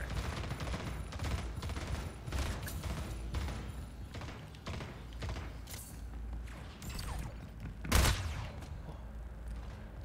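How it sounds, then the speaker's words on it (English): Rapid gunfire from the video game Splitgate rattles in repeated bursts with mechanical clicks and thuds, and one sharper, louder blast near the end. "Shots at the portal."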